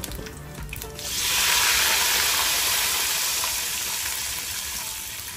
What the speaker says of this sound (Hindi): यहाँ पे कड़कड़ाने के बाद हम इसमें शामिल कर देंगे हस्बे ज़रूरत पानी।